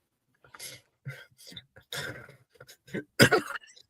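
Bursts of coughing and throat clearing at a sports media desk, short irregular harsh noises scattered among brief talk, with one louder cough near the end.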